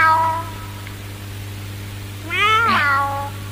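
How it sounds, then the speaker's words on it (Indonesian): A kitten meows from inside a backpack, one short mewing cry at the start and a louder, rising meow about two seconds later, over a steady low hum. "Itu suara apa? Anak kucing."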